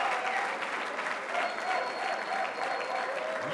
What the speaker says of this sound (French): Peut-on applaudir plus fort que ça?